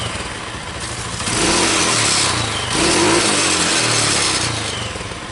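Yamaha Lexam automatic scooter engine revving after a carburetor service, steady drone rising in two broad swells of throttle, close and fairly loud with no talk.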